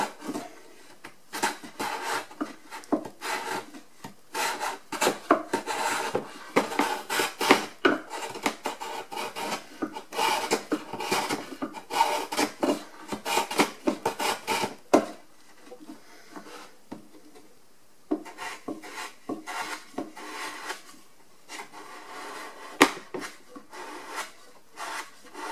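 A chisel pares wood with the bevel down, giving a close series of scraping, rasping strokes in irregular bursts, some brief pauses between cuts and a quieter stretch toward the end.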